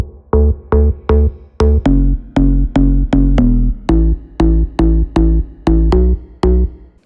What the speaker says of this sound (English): So here's what the bass sounds like.